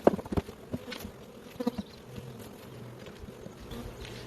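Honey bees buzz around an open hive during a spring check in Michigan, a steady low insect drone with a few louder knocks and thumps of hive equipment near the start.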